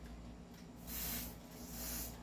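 Oil sprayed into a gun magazine valve, two short pressurized hissing bursts about a second apart, close and fairly quiet with no talk.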